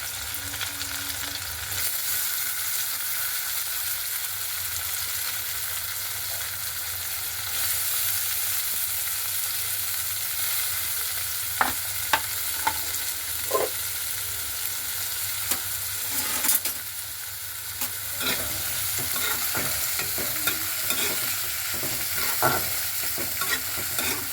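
Chopped onions for bitter gourd kootu fry in a pan with a steady, close sizzle, while a utensil scrapes and clicks against the metal in irregular bursts as they are stirred; no talking.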